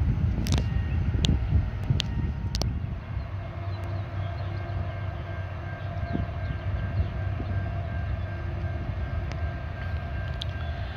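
A train approaches the Amtrak depot at Kannapolis, North Carolina with a steady low rumble throughout, broken early by a few sharp clanks and a faint horn-like tone, heard from a distance and moving slowly.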